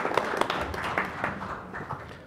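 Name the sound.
audience applause welcoming a speaker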